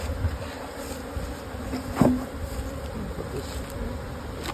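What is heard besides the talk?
honeybees buzzing at an opened hive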